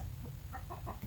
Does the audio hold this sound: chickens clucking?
yes